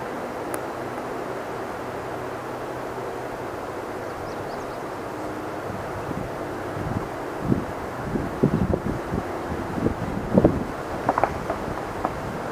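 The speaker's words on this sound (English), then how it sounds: "it is so windy today, it's unbelievable" Steady wind noise buffets the microphone throughout, with gusty low rumbling and a few louder bumps and knocks toward the end.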